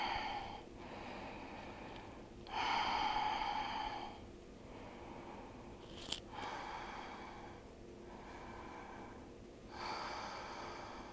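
Slow, deep breaths come during a front and middle splits stretching routine, with long audible inhales and exhales alternating in a calm rhythm, close and fairly soft, plus a brief sharp click midway.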